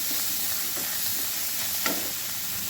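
Chopped green coriander being stirred into a potato stuffing for capsicum in a hot pan, a soft steady sizzle with faint scraping strokes and one brief clink near the end, no talk.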